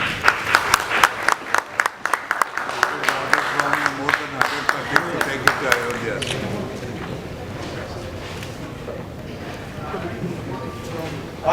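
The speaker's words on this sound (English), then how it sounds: "give a round of applause" An audience at an African Ambassador Honors awards program in New Delhi claps in sharp, rhythmic unison before breaking into looser applause that fades under a speaker's voice as talking begins.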